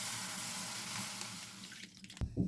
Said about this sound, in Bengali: দিয়ে দিচ্ছি এখানে দুধ